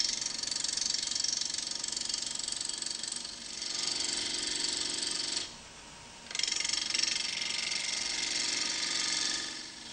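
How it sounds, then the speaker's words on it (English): A wood lathe runs while a bowl blank is turned with a bowl gouge, giving a steady whirring mechanical drone that briefly drops in level midway before resuming, with no voices. "Switch on the lathe and adjust the speed as appropriate."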